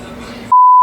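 A steady, loud censor beep cuts in after a brief stretch of quiet background, sitting over a swear word in a garage where an engine fell off its hoist.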